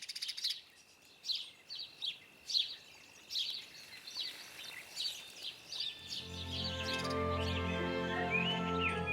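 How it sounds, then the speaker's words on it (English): Fledgling sparrows fed by their parents in a garden give repeated thin, high chirps, faint and spaced at first, then growing into a denser, steadier chorus of calls. "Fledgling sparrows continue to be fed by their parents outside the nest until they can fly well enough to find their own food."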